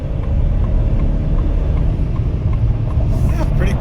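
A 2025 Ford F-150 pickup in sport mode accelerates with a steady, loud engine drone from inside the cab, rising slightly toward the end as gears hold.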